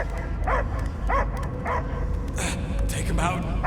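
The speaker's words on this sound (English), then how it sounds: "I hear only barking." A dog barks in the Guardians of the Galaxy video game, several short sharp barks in a rhythmic series with a whimpering yip near the end, under spoken dialogue and game ambience.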